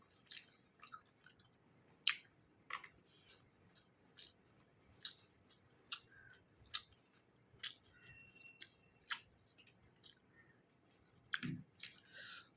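Someone eats roti with dal up close, with soft irregular chewing and wet mouth clicks and smacks repeating quietly every second or so, plus one brief low bump near the end.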